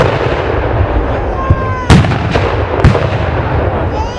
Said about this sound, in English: There was a multitude of shot that the cannons could shoot.